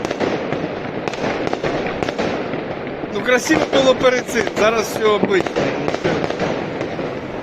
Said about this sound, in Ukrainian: Просто бабахкання та й все.